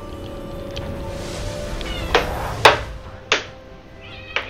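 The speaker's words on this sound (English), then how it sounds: "Be quiet, you damn cat." A house cat meows insistently, several drawn-out cries over about four seconds, loud and close, each rising and falling, against a low background hum.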